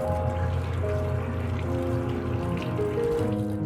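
Fresh coriander and spring onions are rinsed under a steady stream of running water, a continuous close trickle and splash with no pauses.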